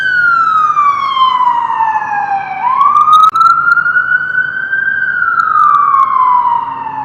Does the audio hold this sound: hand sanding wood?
no